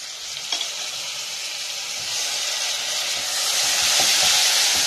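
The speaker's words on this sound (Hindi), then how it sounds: "प्याज हल्की सी ब्राउन कर लेने के बाद इसमें एक चम्मच पिसा हुआ अदरक लहसुन" Onions frying with ginger-garlic paste in a pot for haleem, a steady dense sizzle that builds slightly louder over the clip, close and continuous with no talking.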